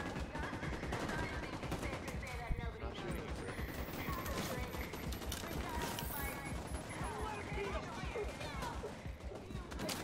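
Rapid gunfire from the video game The Division 2 crackles continuously throughout, dense bursts layered with other game effects and some voice in the background.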